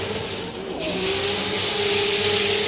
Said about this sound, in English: Oh my goodness, this is a powerful car.